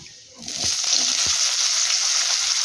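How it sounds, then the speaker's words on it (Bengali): Cut potatoes drop into hot oil with fried garlic, and a loud, steady sizzle bursts up close and continues evenly. "এবার তেলের উপরে দেব আগে থেকে কেটে রাখা আলু"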